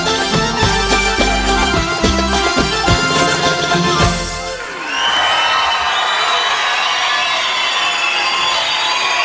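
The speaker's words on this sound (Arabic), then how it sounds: "إلي الجمهور كله عم بيهيص لك ومبسوط فيك" A studio audience at the Arabic Superstar 5 final round roars and cheers for a singer as his loud musical backing stops abruptly, the crowd's applause and whoops swelling and carrying on alone.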